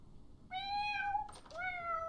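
A cat in The Sims 4 video game lets out two drawn-out meows in quick succession, clear and fairly close over a quiet background.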